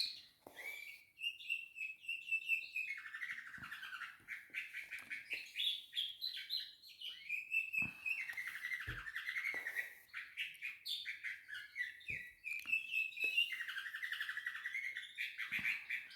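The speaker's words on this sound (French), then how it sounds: "vous entendez mes oiseaux. Ils sont full chant" Pet birds at home sing and chirp almost without pause, a bright, busy chorus of trills and tweets that stays fairly close and steady, with no talking over it.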